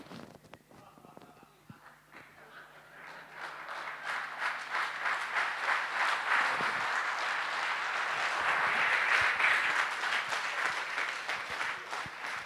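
Seminar audience in a hall breaks into sustained applause, starting as scattered claps and swelling into dense, loud clapping that holds steady to the end, with no speech over it.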